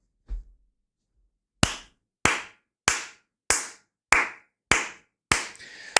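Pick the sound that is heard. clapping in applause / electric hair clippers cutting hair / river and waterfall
clapping in applause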